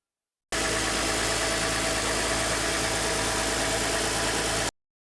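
A Nissan Quest minivan engine warming up after a transmission fluid change idles steadily and close by, a constant low rumble that starts abruptly and cuts off after about four seconds.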